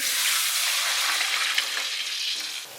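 Hot pot base melting in a wok with bay leaves, star anise and dried chilies being stir-fried in a rural kitchen, a loud, close, continuous bright sizzle that eases slightly at the end.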